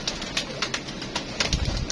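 Pigeons come out of their coop, with soft cooing and brief wing flutters and scuffles close by, scattered through a short stretch with no talking.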